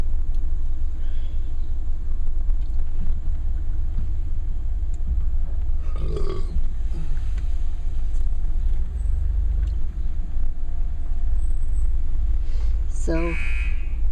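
A Ryko SoftGloss Maxx automatic car wash at an AMOCO station runs with a constant low rumbling drone heard from inside the car, with brief hisses and a few swelling noises, and people talk intermittently over it.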